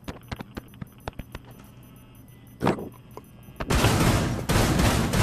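Rainbow Six Siege gunfire: sharp single shots crack at a steady rhythm, then a fast sustained burst of automatic fire breaks out loud and close, with no voices.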